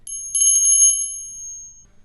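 A small handbell rings out clearly once with a bright, shimmering tone, then lets its ring fade away over about two seconds in a quiet room, with no voices.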